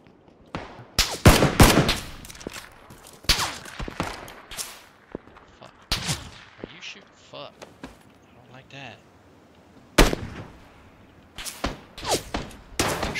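Gunfire in PUBG, the battle royale shooter: sharp bursts and single shots, some near and loud, others fainter, scattered across the stretch alongside footsteps and thuds, with players talking.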